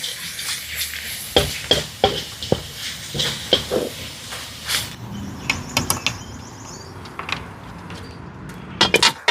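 Adobong uok sizzling in oil in a pan, crackling with scattered sharp pops and bursts over a steady hiss, irregular and close, with no talking.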